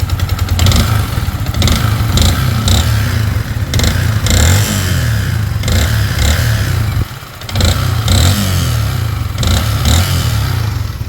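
Yamaha Sniper 155 motorcycle engine with a scraped cylinder block at about 15,000 km, running loud and close with a steady idle, rough clattering and a few revs, briefly dipping near the middle.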